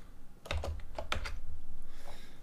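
Computer keyboard typing: a short burst of several close, crisp key clicks in quick succession, then a soft fading tail.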